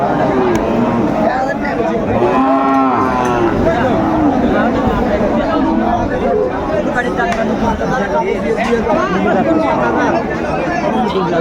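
Cows mooing at a busy rural cattle market where thin, bony dairy cows are traded, with one drawn-out moo rising above a constant crowd hubbub and loud close talk.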